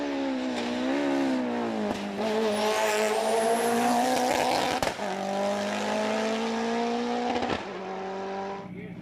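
A Mitsubishi Lancer Evo 9 rally car races hard, its engine snarling and shifting pitch through gear changes, with brief tire scrabble and sharp clunks, steady and close throughout.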